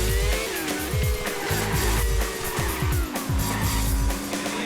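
Car engine roaring and repeatedly revving in the PS2 racing game RS3: Racing Simulation Three, with tire squeal and skidding as the car spins out, loud and continuous throughout.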